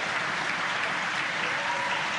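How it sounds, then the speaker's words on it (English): A crowd of staff at SpaceX Mission Control in Hawthorne claps and cheers after second-stage engine ignition on the Crew-5 launch, a dense, steady wash of applause filling the room without pause. "confirmed by the loud cheer behind us here at Mission Control Hawthorne"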